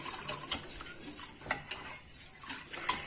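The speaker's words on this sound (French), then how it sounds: "On mélange le tout jusqu'à ce que le liquide devient un petit peu épais." A spoon stirs orange juice tart filling in a pot on the stove as it thickens, giving light scraping and clinking strokes against the pan at an irregular pace, close but quiet with no voices.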